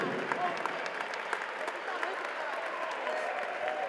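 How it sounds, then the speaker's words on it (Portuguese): A crowd applauds after an MMA fight at a Batalha MMA event, with steady clapping and cheering filling the hall while an announcer's voice carries over it. "merece, sem dúvida, as palmas de todos vocês"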